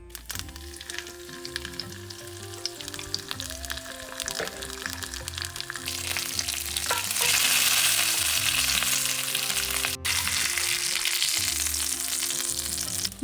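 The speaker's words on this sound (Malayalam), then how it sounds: "വെളിച്ചെണ്ണയാണ് മീൻ വറുക്കാനായിട്ട് ഞാൻ എടുത്തിരിക്കുന്നത്." Fish frying in coconut oil in a pan for Kerala-style pollichathu gives a dense, continuous close sizzle that grows louder midway, with a background hum and scattered crackles.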